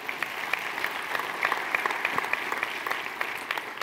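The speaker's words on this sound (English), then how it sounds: "Y'all give a hand clap to Air University" Audience hand-clapping at a US Air Force closing-remarks session: many crisp, overlapping claps in a sustained round of applause, moderately distant and fairly even throughout.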